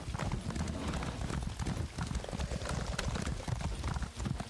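Hooves clip-clop rapidly and continuously as a horse is ridden at speed in Elder Scrolls Online, close and prominent over a dense layer of ambient game noise.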